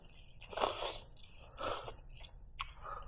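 Close, crisp chewing while eating, in three distinct crunchy bursts with short pauses between them, no talking.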